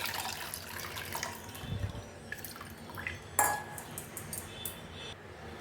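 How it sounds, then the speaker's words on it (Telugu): Tamarind water is poured into a cooking pot for Andhra-style ulavacharu, giving soft splashing and dripping with a few light metallic clinks of the vessel, including one sharper knock partway through. "ఈ వాటర్లో మనము చింతపండు కలుపుకున్నాం చూడండి, ఆ రసాన్ని దీంట్లో పోసేయాలి"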